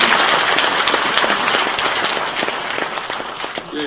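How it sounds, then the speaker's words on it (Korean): Audience at a police veterans' association anniversary ceremony in a concert hall clapping, a dense burst of applause that slowly thins over a few seconds. "우리 모두를 위해서 그 자리에서 힘찬 박수로 환영해 주시기 바랍니다"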